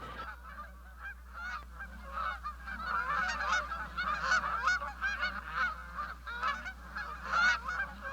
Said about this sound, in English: Look at all the Canada geese that are there.